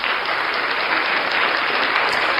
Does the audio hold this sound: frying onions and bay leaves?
no